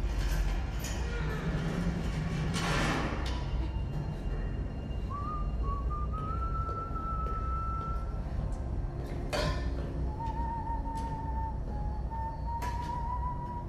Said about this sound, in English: I hate it when people whistle. I can't stand whistling.